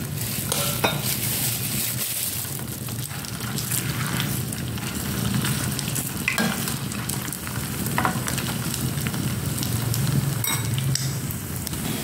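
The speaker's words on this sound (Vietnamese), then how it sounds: "Khi dầu nóng lên, các bạn sẽ cho mình những cái phần xôi mình đã có viên vào nhé, chiên nó lên." Steady crackling sizzle of sticky rice balls frying in hot oil, continuous and fairly loud, with occasional sharper pops and light stirring scrapes.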